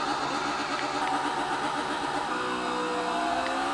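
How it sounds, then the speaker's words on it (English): A burnout in an AU Falcon on Bathurst's Main Straight in the V8 Supercars 2 video game: a steady, loud simulated V8 roar with harmonic whine that holds a constant level throughout, with no voices. "you can do a burnout down Bathurst Main Straight in the AU Falcon"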